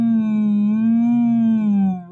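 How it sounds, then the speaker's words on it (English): A voice hums a sustained, steady tone through a drinking straw as a semi-occluded vocal warm-up, pitch gently wavering and then dipping as it fades, close and alone. "you want to hum through the straw. So it sounds like this."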